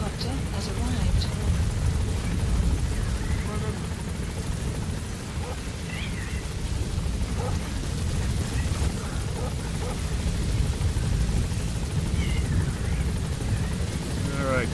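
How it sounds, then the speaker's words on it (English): Support helicopter arriving at a landing zone in the video game Metal Gear Solid V, a steady close rotor and engine drone filling the scene with occasional voices over it. "A support helicopter has arrived."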